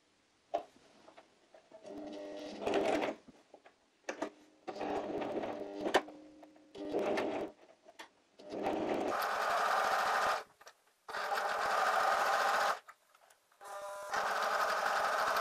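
A sewing machine stitches two pieces of fabric pinned together, running in short whirring bursts at first, then longer steady rattling runs, each stopping abruptly, close and clear with no talking.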